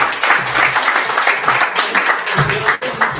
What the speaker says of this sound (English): one more round of applause for Irene